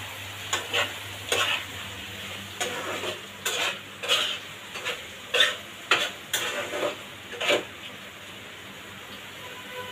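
Green chilies are stirred into shrimp paste frying in oil, with a low sizzle under a series of distinct spoon scrapes and clacks against the pan, about a dozen in irregular rhythm before settling.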